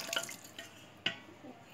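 Lamb legs for soup are rinsed in water mixed with turmeric and vinegar, producing faint drips, splashes and trickling in a kitchen sink, with a couple of sharper splashes standing out.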